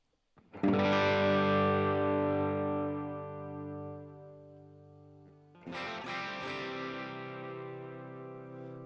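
Electric guitar run through a Headrush amp model with a cleaner tone: one strummed chord rings out and slowly decays, then a second chord is struck and sustains, with no talk.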